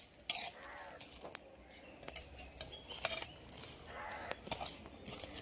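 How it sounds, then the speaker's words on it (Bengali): Peanuts dry-roasting in a pan are stirred with a metal utensil, producing repeated scraping clinks and rattles in an uneven rhythm, close by and moderately loud, with no talking. "এই দেখো বাদাম ভাজা হচ্ছে"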